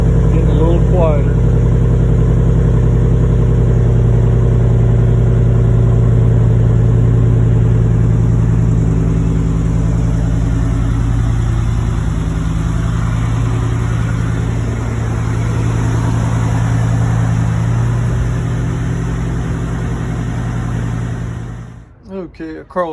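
Ford F150 truck with a Coyote V8 and a muffler delete exhaust idles with a loud, deep, steady rumble up close, dropping off near the end; a voice can be heard briefly.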